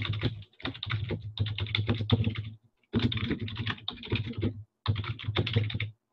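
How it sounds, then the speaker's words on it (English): Fingers typing on a computer keyboard in quick, dense bursts of key clicks, broken by short pauses, close and clear with no other sounds. "we start typing our first post"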